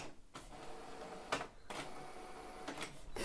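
A Canon Pixma TS9050 inkjet printer running a print job close by, with a steady mechanical hum broken by several short, sharp bursts of carriage and paper-feed noise.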